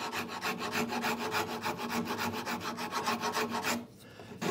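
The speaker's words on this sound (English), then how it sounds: "So I'm flipping between the flat face of my rasp and my round face." A rasp, flipped between its flat and round faces, shapes a wooden saw handle with steady back-and-forth rubbing strokes, close and continuous, stopping just before the end.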